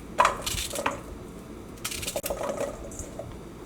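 Raw plantain is cut into pieces on a board for koottu curry, giving a few faint, sharp knife chops and crisp cracks with quiet handling noises in between, close by.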